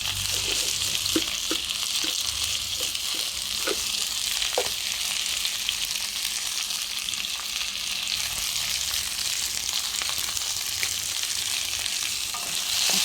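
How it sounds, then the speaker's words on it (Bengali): Chopped okra frying in an oiled pan, sizzling loud and steady throughout, with scattered scrapes and clicks from stirring and no voices. "এখন আমি ঢেঁড়সগুলো ঢেলে দিলাম, কেটে রাখা ঢেঁড়সগুলো ঢেলে দিলাম।"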